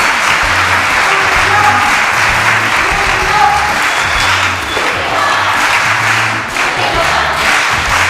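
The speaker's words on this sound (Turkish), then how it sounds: "Bir daha alkışlayın doymadım." An audience applauds loudly and steadily on a Turkish fashion competition show's elimination night, a dense sustained clapping with low thumps and crowd noise running throughout.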